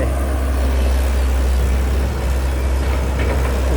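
A 1990s Komatsu PC120-5 excavator digging out soil for a new pond, its engine running close by in a loud, continuous, steady diesel rumble with no talking.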